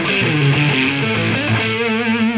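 With all coils split in the middle pickup position, an electric guitar rings out in a distorted, sustained chord with a slight wavering shimmer. It stays loud and unaccompanied, with no talking.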